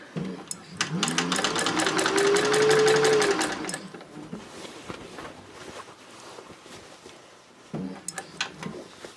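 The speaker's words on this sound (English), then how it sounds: "I'm stitching approximately 1/4 of an inch away from the edge of the seam line" A sewing machine stitches a seam on upcycled denim jeans being made into a tote bag, a loud rapid whirring run of about three seconds, then quieter handling and another short burst near the end.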